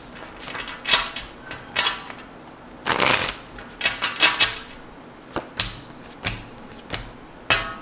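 Tarot cards are shuffled in irregular riffling and tapping bursts, close and fairly loud, alone without talk.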